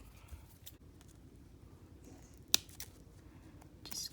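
Scissors make a single short, sharp snip through material while cutting a small line for beaded earrings, set in a quiet room with faint handling noise before and after.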